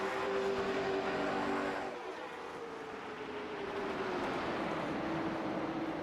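Sim-racing game cars pulling away at a race start at Stafford Motor Speedway, a steady loud engine drone with a pitch shift around two seconds as the pack thins into a continuous roar.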